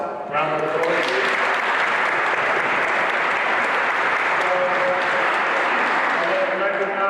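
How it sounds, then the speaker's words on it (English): Sustained applause from a large audience at a political event with Nancy Pelosi and Jamaal Bowman, loud and steady for several seconds, with faint voices in the background. "Round of applause, please."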